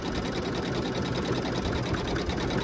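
An embroidery machine stitches out a baby bee bib design, working on the inner leg area with a rapid, steady mechanical needle chatter throughout, close and continuous.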